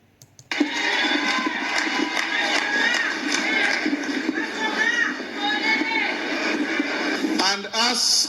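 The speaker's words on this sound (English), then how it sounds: "So they are cheering on the speaker, telling him, tell him, like keep telling the Governor NATEMBEYA what you're saying." A crowd at a political rally cheers and shouts encouragement at a speaker, a dense, steady wall of voices sustained for several seconds, close and loud, with individual shouts rising near the end.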